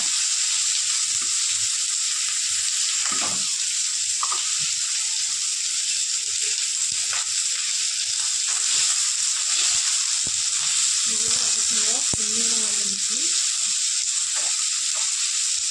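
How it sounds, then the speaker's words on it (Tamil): Onions sautéing in a pan for a snake gourd rice dish make a loud, constant hiss and sizzle. A spatula scrapes and stirs now and then, close up. "இதை நல்லா வதக்கணும் கொஞ்சம் பொன்னிறம் வர வரைக்கும் வதக்கணும்"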